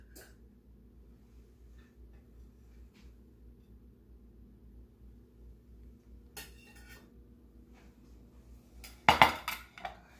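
A plate being served with salmon-stuffed zucchini boats, potatoes and apples: a quiet room hum with scattered faint taps, then a sharp cluster of ceramic and cutlery clinks near the end.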